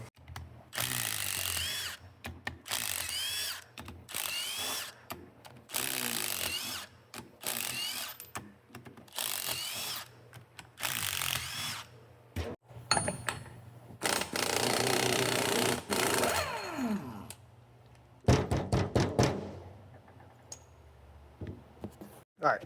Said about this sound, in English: We're going to yank the pinion off, pop this axle stub out, pull this cover